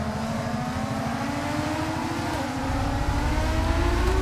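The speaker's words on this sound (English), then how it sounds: "A little bit of short shifting just to get us going." An F2 car in the racing game F1 25, on wet tyres in rain, pulls away with short shifts, its engine note climbing steadily at moderate level with no talk over it.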